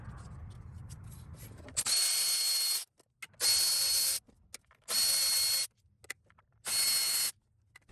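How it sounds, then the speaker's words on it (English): A power tool whirs in four bursts of roughly one second each, with short gaps between, while the 10mm bolts holding the coil packs to the valve cover of a Toyota/Lexus 4.7L 2UZ-FE engine are removed. "Next, I'm going to take out the 10mm bolts that hold the coil packs to the valve cover."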